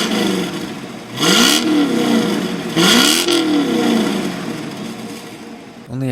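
A 1995 Corvette's engine revs twice in quick bursts, growling loudly as each rev climbs and falls back to a deep idle rumble between them.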